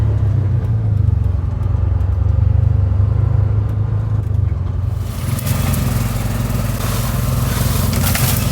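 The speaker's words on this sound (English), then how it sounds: "We're just starting to get caught up with overhead branches because of the height of the truck." Off-road truck grinding along a tight bush track, its engine a loud steady rumble, with a burst of rough scraping and crackling from overhead branches dragging across the body in the second half.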